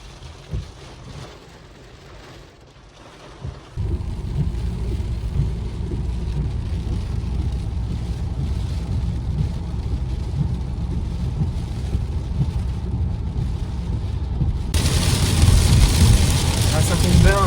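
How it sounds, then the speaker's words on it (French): Thunderstorm near Haut-Ittre, Brabant, heard from inside a vehicle: quiet at first, then a steady loud roar of wind and rain from about four seconds, which grows heavier and harsher near the end. "l'orage nous engloutit maintenant, ça y est. On est dedans."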